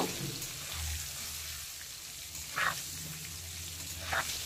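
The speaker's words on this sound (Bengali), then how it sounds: "আলুটাকে ভালো করে ভেজে নেব।" Potato pieces frying in hot oil with a little salt and turmeric give off a steady close sizzle and crackle, with a couple of brief louder spits.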